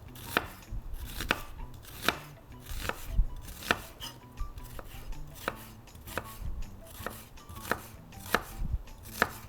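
A knife slices red onion into half-moons on a board, striking in a steady rhythm of about a dozen crisp, close chops with light crunching between them and no voices.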